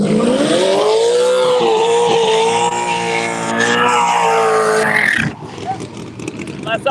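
A drag race car backs up in reverse down the lane at Empire Dragway during qualifying, its loud engine droning with shifting pitch under steady announcer talk before dropping off near the end.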